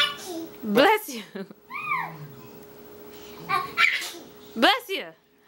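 A child fakes a series of sneezes, three or four sharp, breathy bursts spaced a second or so apart, with a short vocal sound between them.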